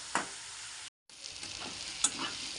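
Onion sautéing in a pan, a steady close sizzle with a few sharp stirring scrapes and clicks, cut by a brief pause of silence partway through.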